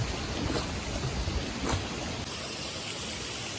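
Steady rain pours down around the Umngot River at Dawki, a dense, even hiss of falling water that fills the whole stretch without pause, with no voices over it.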